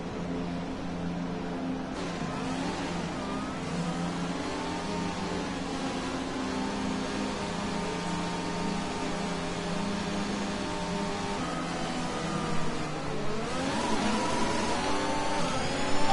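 F1 2021 race car engine at the start of a race on the Canada circuit, a sustained high engine whine with harmonics climbing through the gears, a shift and fresh climb near the end over steady road noise.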